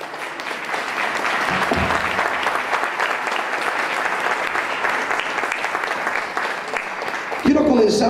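A church congregation at a Spanish-language service gives sustained applause as an offering to the Lord, a broad even roar of many hands, close and loud, with a brief voice near the end.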